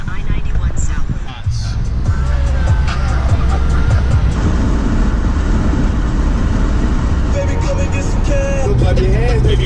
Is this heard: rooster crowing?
no